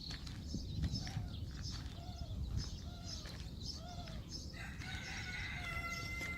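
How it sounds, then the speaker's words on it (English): Roosters crow and chickens cluck outdoors in a palm-filled hospital resort garden in early morning, with several repeated crows over steady background birdsong and ambient noise. "And this sound of chickens or something."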